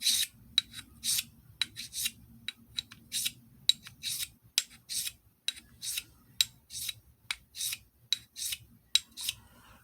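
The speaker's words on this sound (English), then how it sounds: "Okay, so sharpen the same knife again." A knife edge drawn across a Diamond DMT DuoSharp extra-coarse plate, giving bright, gritty scraping strokes in a steady rhythm of about two per second, close and crisp with brief gaps between passes.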